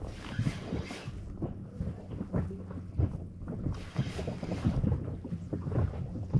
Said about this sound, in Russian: Холодно, снег, ветер.